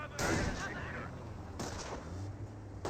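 Panzer Grenadiers fire from garrisoned building windows in the video game Company of Heroes, two sharp, rumbling bursts of rifle fire standing out over a constant battlefield din.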